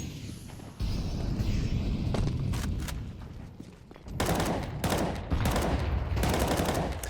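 Gunfire in a Counter-Strike gunfight crackles in rapid bursts, sharp loud shots clustering into volleys with a short lull before a heavier final barrage.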